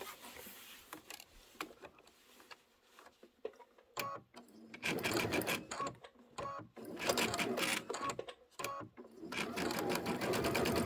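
A sewing machine stitches thread during final quilt assembly, at first in short starts and single clicks, then in longer rapid runs of mechanical whirring and ticking close by.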